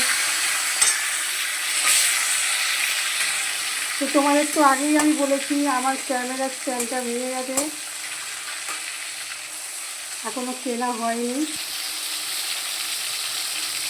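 Pieces of pomfret fish fry in hot oil with a constant close sizzle and a few sharp clicks as a piece is flipped, while someone talks over it for most of the stretch.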